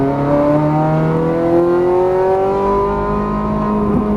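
A Ferrari F430 Scuderia's engine pulls hard and close on a race track, its tone climbing through the revs in a continuous loud, smooth acceleration with no talking over it.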